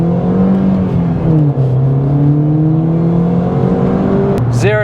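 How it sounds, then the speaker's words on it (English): Hot hatch accelerating flat out in a 0 to 60 run with the stock shifter, the engine note climbing steadily through a long gear and dipping briefly at a shift, loud and close from inside the cabin, ending with a quick rising whine. "So we're going to do some 0 to 60 runs with the stock shifter and just see how fast it is."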